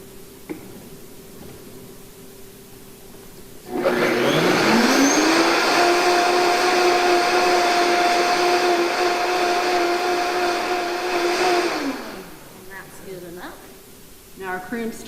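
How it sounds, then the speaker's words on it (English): A kitchen blender runs on salt and liquid ingredients, a loud steady motor whir that spins up sharply, holds for about eight seconds and then winds down, with no talk over it. "And we're going to turn on our blender."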